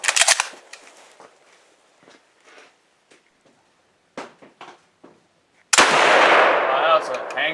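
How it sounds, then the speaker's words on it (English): A Lee Enfield No.1 Mk III rifle firing old ammunition with a hang fire: an opening shot, then quiet mechanical clicks and handling noises, then a sudden loud close bang that rings on to the end. "Wow, that was a hang fire. Maybe like a third of a second. Click, bang."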